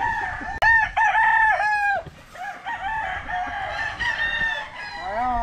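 Gamefarm roosters crow repeatedly and loudly up close, several calls overlapping, with hens clucking between them.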